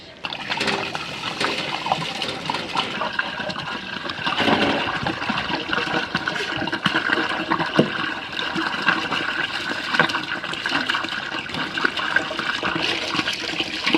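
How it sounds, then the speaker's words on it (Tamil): A steady rush of water, 44 liters in total, pours and splashes continuously into a large cooking pot for mutton biryani, loud and close, with a slight surge partway through. "தண்ணி ஊற்றிக்கலாங்க மொத்தம் நாற்பத்தி நாலு லிட்டர்"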